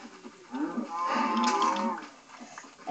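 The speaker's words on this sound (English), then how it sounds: "Oh my gosh, mother load of cows." Cows moo in a Minecraft survival game: one long, fairly loud low bellow rises and falls over a second or more, with softer calls around it and no talk.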